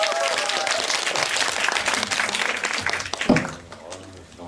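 Applause from a film screening audience at a Q&A with actor Kang Gil-woo, dense and steady clapping that tapers off near the end as a voice begins.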